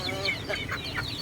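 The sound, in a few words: hungry chickens clucking on a chicken farm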